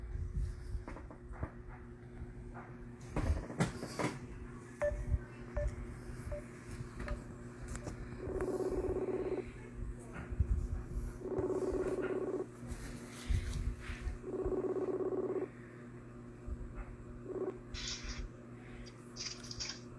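A telephone call being dialed and ringing, with a few faint tones followed by three evenly spaced, moderately loud ring bursts and a last brief tone, over quiet background noise.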